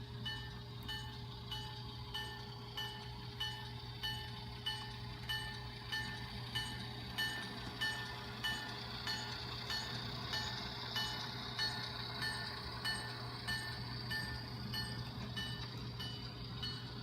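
Model train, CN 403, rolling slowly into staging on a layout, a steady rhythmic clicking of wheels over rail joints with a constant motor hum beneath, near and moderately quiet.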